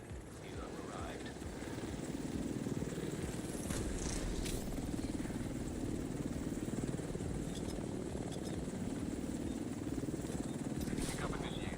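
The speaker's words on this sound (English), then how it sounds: "Helo arrived." In a video game, a helicopter arrives at an extraction zone with a steady, continuous rotor thrum that stays loud and constant throughout, while a voice talks over it.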